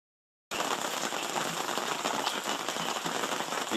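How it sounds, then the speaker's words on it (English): Steady rain on a Friday morning at a mining camp, a dense hiss of drops on surfaces that starts abruptly and continues evenly, close and constant with no voices. "Yeah, it is raining Friday morning."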